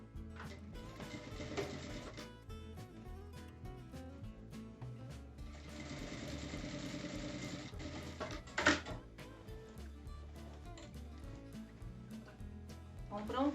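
A sewing machine stitches a bag seam in a steady mechanical whirring run, pausing midway and briefly clattering before resuming, heard fairly close amid quiet handling noises.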